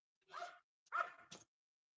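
A dog barks a few times indoors, two or three short, fairly quiet yelps separated by brief pauses.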